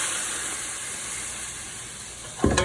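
White cooking wine hissing and sizzling steadily in a hot pan, a broad, even sizzle that holds for a couple of seconds before a brief louder clatter at the end.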